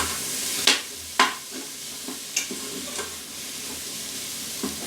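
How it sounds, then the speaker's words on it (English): Onion, garlic, ginger and orange zest sizzle in an Instant Pot under a steady soft hiss, with a few sharp utensil clanks against the pot as they are stirred. "I'm just going to add all this, my onion, my garlic, my ginger, my orange zest."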